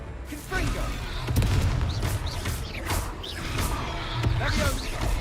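Repeated fiery blast spells from Confringo in Hogwarts Legacy, a string of booming, whooshing bursts over continuous game noise, with spoken voices over it.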